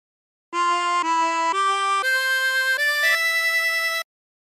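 Short phrase of The Yellow Rose of Texas on a 24-hole tremolo harmonica, about seven sustained reedy notes stepping upward with a shimmering warble. Clear and close, alone without talk.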